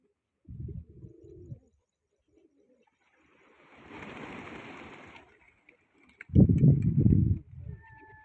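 Pigeons coo at a pigeon-flying contest in two short, throaty bursts, one early and a louder one near the end, with a soft rushing noise between them and otherwise quiet surroundings.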